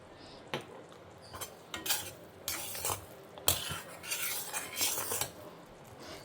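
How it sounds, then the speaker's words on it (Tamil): Coconut being grated by hand in a home kitchen: repeated rough scraping strokes in an uneven rhythm, close and fairly quiet, with light metallic clinks between them. "தேங்காயை துருவி எடுத்துட்டுருக்கேன்"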